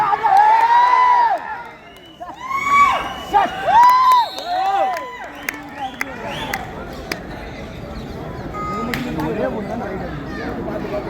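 Spectators at a kabaddi tournament quarterfinal cheering and shouting around a loudspeaker announcer's voice, with bursts of crowd noise and sharp claps or thuds, settling into a steady, more distant roar.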